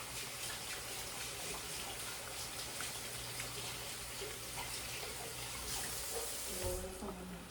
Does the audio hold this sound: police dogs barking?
no